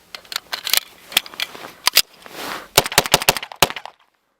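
1911 pistol firing +P ammunition from Sellier & Bellot outdoors in a cold-weather test, a run of sharp close gunshots in quick irregular succession, loud and alone, ending in silence.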